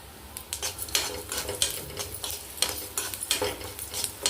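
Coriander seeds and lentils dry-roasting in a pan for idli podi, with repeated scraping and stirring strokes of a spatula against metal and a light, steady rattle of seeds, close and clear with no talking.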